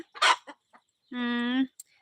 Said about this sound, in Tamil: அங்க நம்ம கோழி கத்திட்டு இருக்காரு